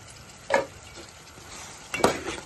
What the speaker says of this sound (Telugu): వేసేసి కలుపుకొని ఇది కూడా ఒక ఐదు నిమిషాలు ఆకాయకాయలు నూనెలో మగ్గి